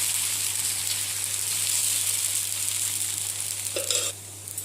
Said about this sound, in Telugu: మీరు కొంచెం ఆయిల్ వేసుకోండి ప్యాన్ మీద, సో అలా అయితే అంటుకోకుండా ఉంటుంది.